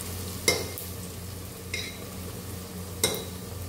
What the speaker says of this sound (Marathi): आता हे छान आपण पुन्हा एकदा ह्याला ढवळून घेऊया